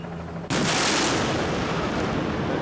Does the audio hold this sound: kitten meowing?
no